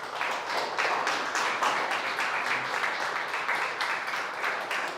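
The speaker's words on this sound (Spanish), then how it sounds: "Dale un aplauso fuerte a Dios." A church congregation claps loudly and steadily, a dense, even wash of many hands at close range that carries on without a break for several seconds.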